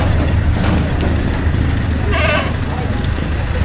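At a livestock market, a single bleat from an 11-month-old Anglo-Nubian goat rises briefly above a constant rumble of crowd noise, traffic and someone talking.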